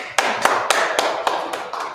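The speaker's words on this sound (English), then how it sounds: "Please clap it up." A small group claps in a Hebrew language class, about seven sharp, evenly spaced beats close by, in a quick steady rhythm with no talk over it.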